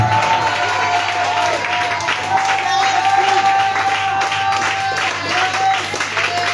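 A congregation at a night prayer vigil claps and cheers in a loud, sustained burst of applause that fills the room, with a voice speaking over the crowd.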